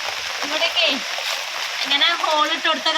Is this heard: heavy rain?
yes